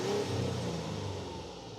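A 2024 Mazda CX-60 with the gasoline engine revving, a loud, steady mid-range growl that holds briefly, then eases slightly toward the end, heard close with no talk.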